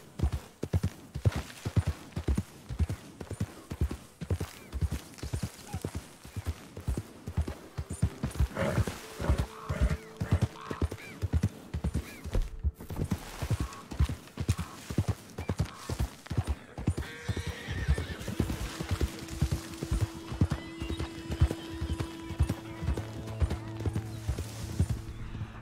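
A horse in the Red Dead Redemption 2 video game trots with steady, rhythmic clip-clop hoofbeats throughout, a whinny rising over them partway, and creaking tack in the background.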